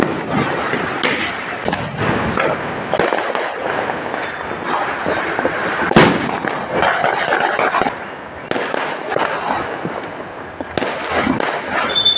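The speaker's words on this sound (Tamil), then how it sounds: "12 மணி ஆனோடனே சுற்றி கத்துற சத்தமும் பட்டாசு சத்தமும் தான்." New Year's firecrackers burst all around at midnight, a dense crackling barrage with sharp individual bangs standing out, mixed distant and near, continuing without pause.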